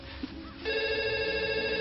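A telephone starts ringing midway through, a bright electronic tone sustained over a faint background murmur.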